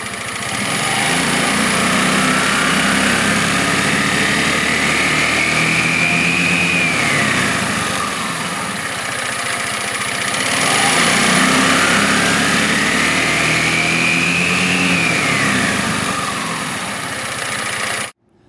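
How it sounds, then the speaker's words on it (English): Engine driving a CVT belt transmission revs up and back down twice as the throttle is increased, a loud, continuous mechanical whine whose pitch rises and falls in two smooth sweeps before cutting off abruptly. "I'll give you a live demonstration and watch as I increase the throttle speed."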